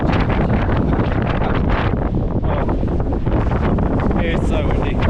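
Strong, steady wind roars and buffets the microphone on a mountain in the Kosciuszko area, loud and continuous throughout.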